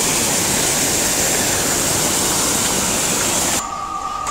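A steady roar of water spills evenly over an artificial, level-edged waterfall at a waterwheel park in Lanzhou, loud and continuous, then drops sharply quieter near the end with a faint tone left behind.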